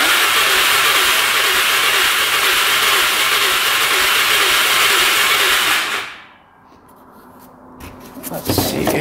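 An ATV engine runs loud and steady for about six seconds, then cuts out abruptly, leaving near silence before faint clanking and handling noises return.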